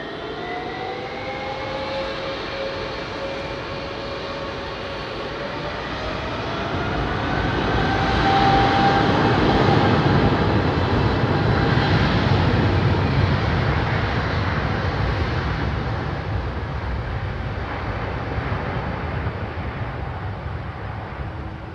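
An old Airbus A330 with Pratt & Whitney PW4000 engines roars past, a steady jet rumble and whine that swells to a loud peak midway and then slowly fades, with no one talking.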